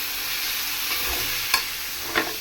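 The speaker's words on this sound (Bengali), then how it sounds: "আর এখন মূলাগুলো দিয়ে দিতেছি মূলাগুলো কষাই নিই" Radishes sautéed in leftover spiced oil from frying fish, a steady close sizzle with a couple of spoon scrapes and knocks against the pan, no voices.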